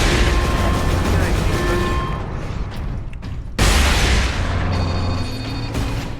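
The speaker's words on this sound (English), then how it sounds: "Missile launcher. Well, at least this thing is taking them out with one shot." Missile launcher firing in Warhammer 40K Space Marine, with loud continuous booming blasts and rumbling explosions that briefly cut out and then resume over a dense game soundtrack.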